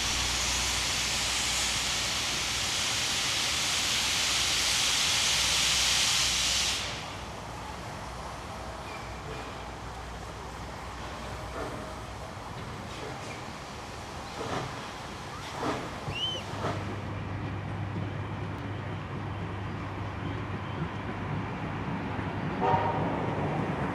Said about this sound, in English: 6029 now has a clear path and will pull into the station ready to be shunted.